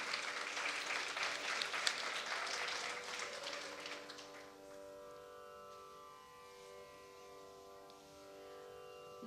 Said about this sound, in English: please, another round of applause for a great concert